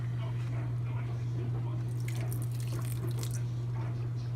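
Water poured into a pot for dyeing with vinegar, giving a soft trickling splash through the middle of the clip beneath a loud, steady electrical hum.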